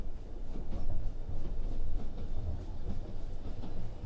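A sleeper train rolls along with a steady, loud low rumble inside the carriage, overlaid by a soft repeating clickety-clack of wheels over rail joints, continuous and without voices.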